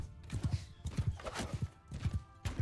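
Cavalry horses in Mount & Blade II: Bannerlord, hooves pounding in a rapid, rhythmic clatter of paired beats, loud and close as they gallop steadily throughout.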